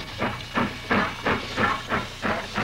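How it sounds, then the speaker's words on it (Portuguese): A steam locomotive chuffs steadily, with rhythmic hissing exhaust bursts roughly every 0.35 seconds over a low rumble, sounding fairly close with no talk. "Essa locomotiva a vapor nos mostra como a energia calorífica faz funcionar as"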